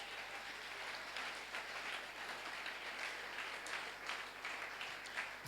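Congregation in a church service applauding and cheering together, a steady broadband wash of clapping from many hands filling the room, fairly distant and sustained without a break.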